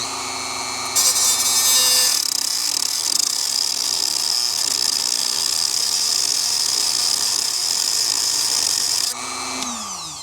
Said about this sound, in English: I'm just putting slits in it so I can at least break the nut free from the washer